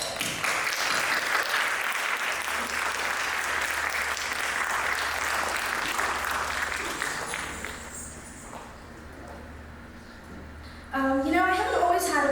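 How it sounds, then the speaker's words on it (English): Audience applause at a Bharatanatyam arangetram dance recital in Mount Laurel, a dense, loud crowd clapping for about eight seconds that fades, then gives way to a voice speaking near the end. "It's a round of applause."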